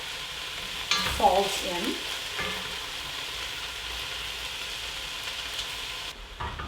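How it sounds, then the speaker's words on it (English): Kale being sautéed in a pot, with a scraping stir and rustle of leaves early on, then a quiet, steady sizzle that continues to the end. "while I'm sauteing the kale, I'm just gonna gradually add more until it all kind of shrinks"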